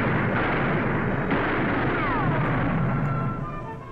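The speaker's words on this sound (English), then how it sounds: "Everyone's hit by gunfire." Gunfire in a staged Wild West gunfight reenactment, a dense, loud rush of blasts and crackling bursts that runs without a break, fading slightly toward the end.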